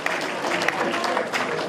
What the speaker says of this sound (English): I want us to give a specific hand of applause to all the women that are dressed so fine here today